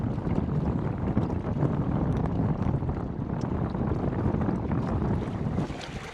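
Steady wind blowing hard across a microphone on open water while fishing for roach in Cyprus, a continuous broadband rush with gusting buffets and no talk.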